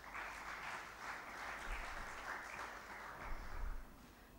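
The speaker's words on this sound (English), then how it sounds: "Please give him a big round of applause." Applause for a speaker at a conference session, a faint and distant wash of many hands clapping steadily with no voices over it.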